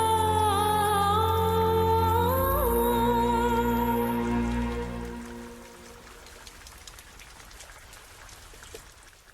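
Rain falls steadily as a soft, even patter, rising into the clear once the music fades out midway and continuing alone to the end.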